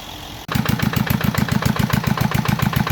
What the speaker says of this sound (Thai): ติดเครื่องให้ใบพัดพาน้ำไปนะครับ ก็จะติดเครื่องแบบนี้